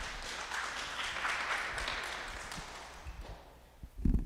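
A town hall audience applauding, a soft spread of clapping that swells and then thins out, with a few louder, closer claps near the end.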